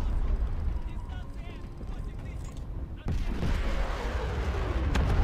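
In a naval combat video game, warship guns fire a heavy boom about three seconds in, and it rolls into a rumbling tail over the continuous drone of the ship and battle, with someone talking in Russian underneath.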